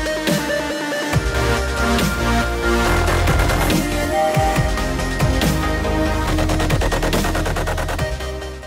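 Dense dubstep remix built from sampled effects, with heavy bass, layered synths and sharp percussive hits playing loud and continuous throughout, no voices.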